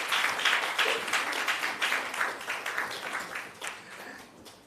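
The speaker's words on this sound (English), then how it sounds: "Now is the time to clap, by the way." Audience applause at a national health research conference award presentation, steady moderate clapping from a sizeable crowd that gradually fades, with no talk over it.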